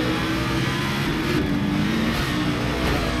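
A Viper with an 8.5-litre V10 roars loudly in a racing video game, the engine note held high and continuous throughout with no talk over it.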